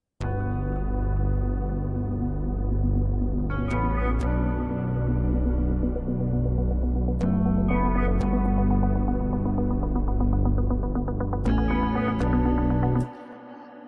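A guitar sample from an Afro house track repeats a steady, sustained pattern of layered notes with a deep low end, looping evenly for about thirteen seconds before cutting off.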